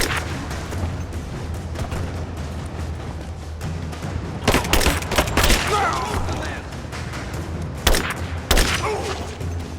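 A gunfight in the mines of the video game Rise of the Tomb Raider: loud, rapid bursts of gunfire and heavy booms crack repeatedly over a constant rumbling background, with the sharpest volleys clustered toward the end.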